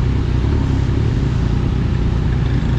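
A motorcycle engine held in first gear while braking, running low and rough as it nears stalling; a loud, steady, close drone with no voices.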